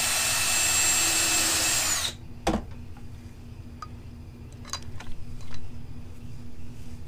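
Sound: power drill boring a countersink hole

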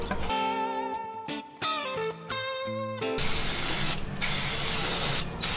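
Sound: brake cleaner spray cleaning a car part

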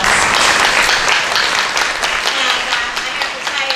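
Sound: audience applause at a workshop

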